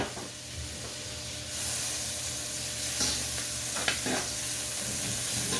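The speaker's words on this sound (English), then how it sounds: "I'm also going to put a tablespoon of butter into the pan. Let that melt down." A tablespoon of butter melts in a pan on the stove, giving a steady hissing sizzle that swells slightly partway through, with a few faint stirring scrapes and clicks near the end.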